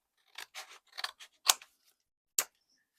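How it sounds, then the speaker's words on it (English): Scissors snip through an old, sealed paper envelope in a series of short crisp cuts, about six close, dry snips in quick succession with a brief pause before a final cut. "get an old envelope, make sure it is fully stuck down, and then we can cut it in 4."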